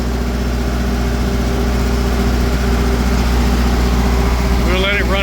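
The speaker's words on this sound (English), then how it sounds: "I'm going to turn the load off and then let it run for 10 minutes or so to cool down the generator" A Cummins generator runs unloaded to cool down, a loud, steady, close engine drone with a deep low hum throughout, and a voice briefly speaks over it at the end.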